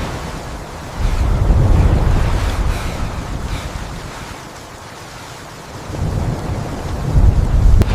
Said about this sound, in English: leaving only the hiss of rain on twisted steel